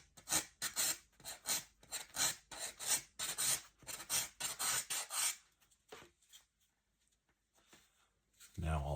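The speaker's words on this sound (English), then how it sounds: "we don't trim, we sand." Rapid rhythmic rasping of sandpaper over model rocket fins, a close steady series of strokes for several seconds, then slower scattered rubs and a final thump.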